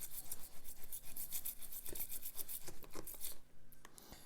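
A stiff toothbrush scrubs old paint off a metal miniature figure, rapid rhythmic bristle strokes rasping close and fairly quiet, with a short pause near the end.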